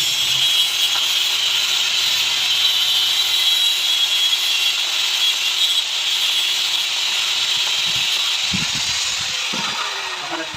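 A cutting tool works steadily through the seal of a Suzuki Gixxer SF BS4 mono suspension nitrogen gas shock absorber, producing a loud, continuous hissing grind. A few heavier knocks come near the end.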